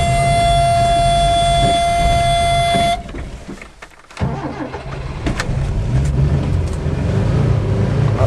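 An old 1980 Subaru engine runs loud and close, with a steady idle and some rough surging after a brief dip and a sharp tonal whine at the start.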